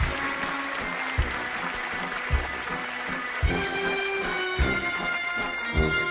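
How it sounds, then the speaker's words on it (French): Studio audience applause rolls steadily on a French television entertainment set, a dense sustained clapping bed punctuated by regular low thumps of a rhythmic music cue. "Venez donc me rejoindre sous les applaudissements du public."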